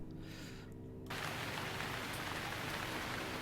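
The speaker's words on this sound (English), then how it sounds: "Do you hear the rain? Much rain, very wow." Steady rain inside the video game Gemini Rue, a dense continuous hiss that swells louder about a second in and keeps pouring without a break, with no voices over it.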